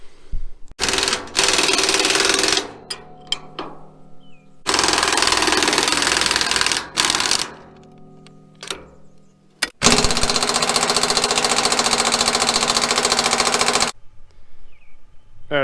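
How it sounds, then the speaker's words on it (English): A hammer strikes a frozen part on a Cat D4 bulldozer in loud, rapid bursts of metallic impacts, several seconds each, separated by short quiet gaps. "hit it with a hammer a few times, and hopefully it pops out"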